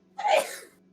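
A single short, sharp sneeze burst bursts out close by and moderately loud against a faint steady hum.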